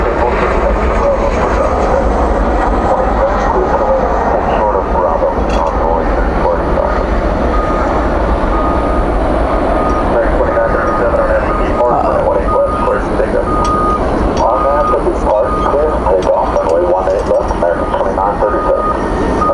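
An American Airlines Boeing 777 sits on the runway at night, its steady jet engine roar filling the air alongside other constant airport noise, with faint clicks and beeps scattered through.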